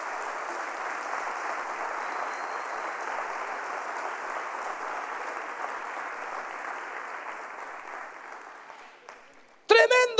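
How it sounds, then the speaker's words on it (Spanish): A church congregation applauds at a Spanish-language service, dense sustained clapping filling the room for about nine seconds before fading, then a voice speaks briefly at the end. "Den un fuerte aplauso a Jesucristo por esta palabra."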